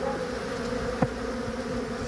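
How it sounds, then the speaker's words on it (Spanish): Bees hum steadily while feeding on honey outdoors, a continuous close drone with one brief louder pass near the middle and no talking. "Miren cómo están las abejitas aquí tratando de consumir la miel."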